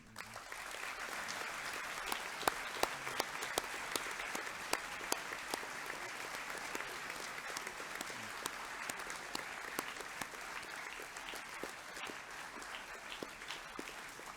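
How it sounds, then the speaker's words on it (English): Sustained audience applause at a school Year 11 academic awards ceremony, many hands clapping steadily in a hall, somewhat distant and even in loudness for the whole stretch, with no talk over it. "I might ask just for another round of applause as those boys leave the stage."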